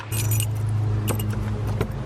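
Two keys jangle close up as they are tried in a shed door lock, with metallic clinks and a scrape, over a low steady hum.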